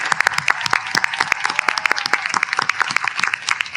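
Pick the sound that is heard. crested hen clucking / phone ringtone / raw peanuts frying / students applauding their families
students applauding their families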